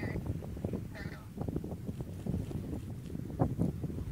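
Low, rolling rumble of a SpaceX Falcon Heavy rocket launching the ARABSAT-6A mission, picked up from a distance with steady wind buffeting the microphone and a voice talking over it.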